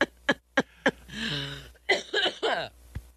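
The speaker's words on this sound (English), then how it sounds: "Made me cough there." A few sharp coughs, close and loud, followed by a short bout of throat-clearing and another cough, with brief silent gaps between.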